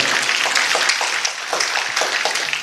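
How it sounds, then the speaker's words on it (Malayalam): Audience applause at a seminary day stage program in Thamarassery, a steady wash of many hands clapping at moderate distance with no talk over it. "നമുക്കെല്ലാവർക്കും ഒന്നു ചേർന്ന് നല്ലൊരു കയ്യടി അവർക്ക് കൊടുക്കാം."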